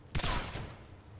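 A single loud gunshot in the video game Singularity, with a short echoing tail, close and sharp, then fading into quiet background noise.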